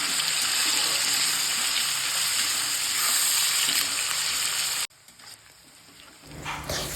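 Food fries and is stirred in hot coconut oil in a pan, a dense, loud sizzle that holds steady, then cuts off abruptly and returns quieter with scraping stirs and a rising hiss.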